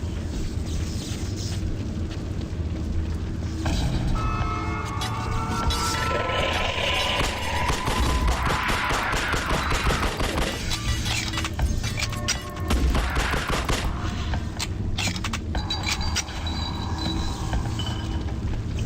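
Gunfire from the video game The Suffering rattles on in dense, continuous volleys with booming impacts, layered over game music and ambient noise throughout.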